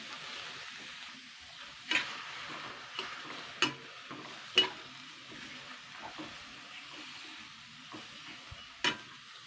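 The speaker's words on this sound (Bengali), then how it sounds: "এটাকে আমি একটুখানি হালকা ভেজে নেবো আর কি নাড়াচাড়া করে নেবো" Chillies, cabbage, carrot, onion and tomato fry gently in oil as they are stirred, a soft, quiet sizzle broken by occasional sharp clicks and scrapes of the spoon against the pan.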